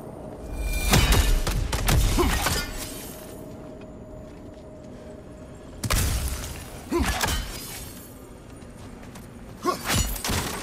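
Ice shatters in God of War Ragnarök, with loud cracking bursts and heavy breaking thuds in two main waves a few seconds apart. Later come smaller crunching hits, and a faint hum plays between them.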